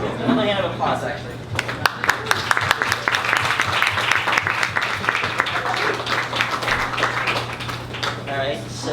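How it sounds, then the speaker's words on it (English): Audience applause at an art open mic, dense steady clapping with scattered sharper claps that fills the whole stretch alongside a low constant hum. "Another hand of applause, actually."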